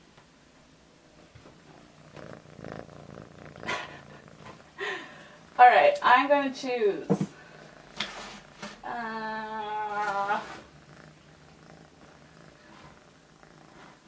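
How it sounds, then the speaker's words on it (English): A soft, low cat purr rumbles quietly in the background while someone talks, with some louder vocal sounds partway through. "Do you hear her purring?"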